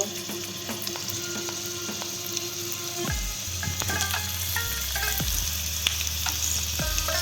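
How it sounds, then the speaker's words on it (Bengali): Pointed gourd pieces frying in leftover oil topped up with refined oil, a steady close sizzle under a few spatula knocks and scrapes against the pan, no talking. "ওই তেলের মধ্যে সামান্য কিছু রিফাইন্ড অয়েল আবার দিয়ে পটলগুলোকে ভালো করে ভেজে নেব"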